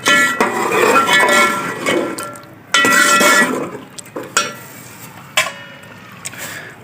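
Potatoes, peas and green chillies tipped into a pot of frying goat meat give a loud, crackling sizzle, broken by sharp clinks of utensils against the pan.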